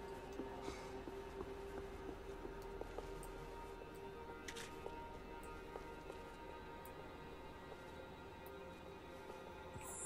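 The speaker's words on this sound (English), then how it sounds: "The trams were running again." Trams in Max Payne 3 rumble along with a faint, steady mechanical drone and a soft hum, with light ticking clicks scattered over it, distant and quiet.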